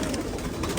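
A fancy pigeon gives a brief, soft coo, close by and over in under a second, with no talk over it.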